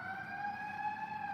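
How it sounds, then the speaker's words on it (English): An ambulance siren passes outside during a quiet dinnertime at home. It carries as a steady, sustained wailing tone from some distance, with no talking over it. "A lot of ambulance today."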